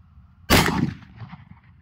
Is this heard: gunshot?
yes